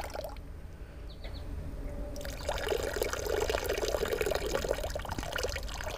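Water pours and splashes steadily over small crayfish being rinsed outdoors, a quieter trickle at first that swells into a fuller, continuous pour.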